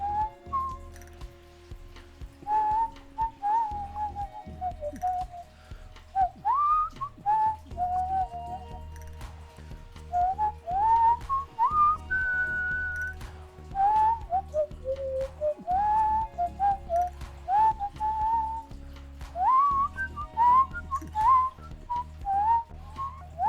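A person whistles a wandering, melodic tune to the birds, bright phrases rising and falling in short bursts with brief pauses, heard close and clear over a quiet, low musical hum.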